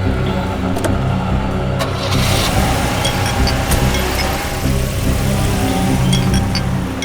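A car driving along, heard from inside the cabin as a steady, fairly loud engine and road rumble with a few faint clicks and no one speaking.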